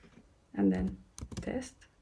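A few quick keystrokes click on a computer keyboard in two short bursts, close and fairly quiet, mixed with brief speech.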